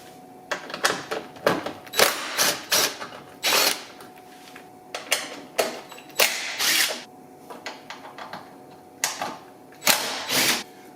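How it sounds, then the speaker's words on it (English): DeWalt impact drill with a 10 mm socket removing bolts from the underside shield of a 2018 Honda Rancher 420 ATV, loud close bursts of rapid hammering, several short runs separated by pauses. "I'm using my DeWalt impact drill with the 10 mil socket."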